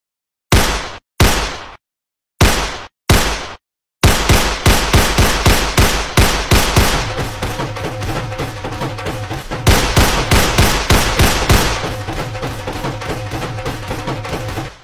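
Celebratory gunfire at a wedding procession: four separate loud bangs, then a long rapid burst of shots firing in quick rhythmic succession, close and loud.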